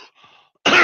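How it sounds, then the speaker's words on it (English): A person gives a single sharp cough, loud and close, bursting out abruptly after a moment of near silence and a faint preceding breathy sound. "As you can see, I still have a cough"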